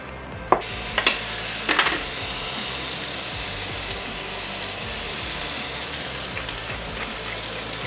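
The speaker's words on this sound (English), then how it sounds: "We're gonna sear our legs, add our mirepoix, and then add our bacon." Canada goose legs searing in a hot pan: a loud, steady sizzle and crackle, close up, with a few clinks and stirring sounds near the start and no speech.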